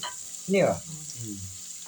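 Chopped large onion sizzles in a hot pan, with a sudden loud hiss as it hits the oil, then a softer steady frying crackle close by.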